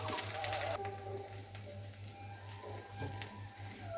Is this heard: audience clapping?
no